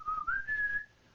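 A single person whistles one sustained, slightly wavering tone that glides upward and holds, close and clear with no talking.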